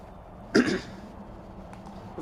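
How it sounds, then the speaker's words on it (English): A single short throat clearing, close and moderately loud, breaking a quiet room, with faint background hum before and after. "Sorry that you hear me clear my throat throughout this entire video."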